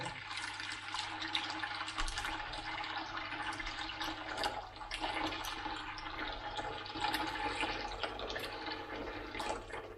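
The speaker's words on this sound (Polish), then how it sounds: "Nadmiar odlewamy" Continuous splashing, rushing water pours steadily for several seconds, close and fairly loud, with no voices.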